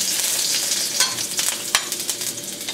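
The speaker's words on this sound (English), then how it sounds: "Put about 3 tablespoons of cooking oil in there. Throw in some sliced ginger." Sliced ginger sizzles in a few tablespoons of cooking oil in a hot wok, a steady close hiss broken by sharp crackles and pops near the one- and two-second marks.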